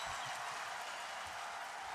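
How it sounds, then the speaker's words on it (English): Steady applause from a large crowd at a 1995 NBA basketball game as a player sits down, broad and continuous, heard from a distance with no break throughout. "The applause for Vern Fleming as he sits down"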